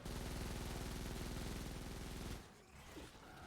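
Rapid automatic gunfire from a weapon in the video game Fortnite: Save the World, a dense, continuous burst of shots that cuts off abruptly, followed by quieter game ambience.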